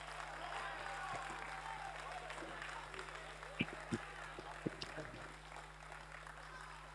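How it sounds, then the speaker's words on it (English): A church congregation claps for the Bible, a faint, distant patter of hands with a few sharper claps standing out over a low room hum and murmuring voices. "Clap for the Bible."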